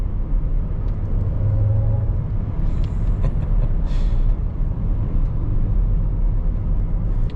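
A heavy 2025 Cadillac Escalade IQ electric SUV cruises under regenerative braking, giving a loud, steady road rumble and tire roar with a faint whine, no voices.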